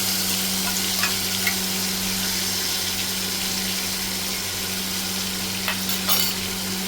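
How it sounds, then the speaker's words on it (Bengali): Grated ginger and ground spice paste fry in hot oil for a vegetarian chhanar kalia, with a loud, even sizzle filling the whole stretch over a faint steady hum and a few light stirring taps, and no speech. "আদা ঘষাটা দিয়ে দিই তেলের মধ্যে বাটা মশলাটা"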